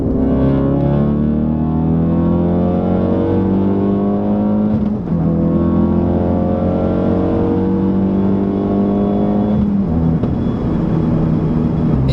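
A modded full bolt-on Ford Focus RS accelerating hard in third gear on the highway, its engine note climbing steadily loud and close, with a brief dip around the midpoint before rising again.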